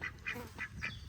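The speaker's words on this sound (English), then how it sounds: "We have the ducks patiently waiting for a swim." Ducks in a backyard quack faintly, four short nasal calls in quick succession over a low background hum.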